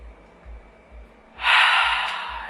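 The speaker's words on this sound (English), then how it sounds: "So take a deep breath in with me." A single deep breath is drawn in, rising sharply and holding as a loud, airy rush close to the microphone after a quiet start.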